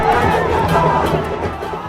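Crowd noise from thousands of BJP supporters at JP Nadda's road show in Patna, a dense, steady roar of chatter and cheering that stays loud throughout.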